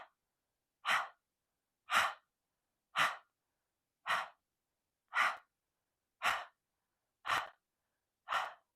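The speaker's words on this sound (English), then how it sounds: "Let's begin our Kapalabati breath, breathing out and exhaling as we pump our diaphragm for 20 breaths." Kapalabhati pranayama breathing: eight sharp, forceful exhales pumped from the diaphragm at a steady pace of about one per second, close and clear, with silent inhales between them.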